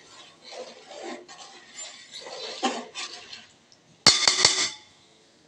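A spoon clinks and scrapes against a pot while rice for chicken biryani is stirred, a short cluster of bright metallic knocks following quieter cooking sounds and soft background murmur.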